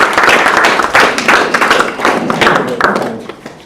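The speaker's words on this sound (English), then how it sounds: "Let's give them a round of applause" At a sports federation board inauguration, an audience applauds loudly and close, with individual claps and thuds standing out from the dense patter before it tapers toward the end.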